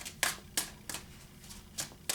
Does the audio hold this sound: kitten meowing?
no